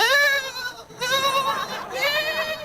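Sheep bleating as a sound effect: two or three drawn-out, wavering bleats, loud and close, following one another with short gaps.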